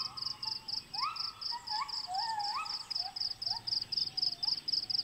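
An unidentified jungle bird in Malaysia gives strange rising, whining calls, repeated in short swoops, against a steady pulsing insect chorus in a quiet forest.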